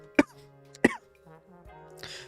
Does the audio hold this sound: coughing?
yes